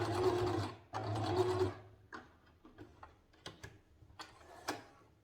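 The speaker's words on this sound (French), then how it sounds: "On termine également la couture par un point arrière." A sewing machine stitches in two quick motor bursts to backstitch the end of a seam, followed by scattered mechanical clicks and ticks as it stops, close and clear.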